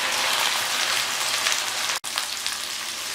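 Okra dropped into hot oil in a pan for bhindi salan, giving a loud, steady sizzling hiss that runs throughout with one brief dip partway through.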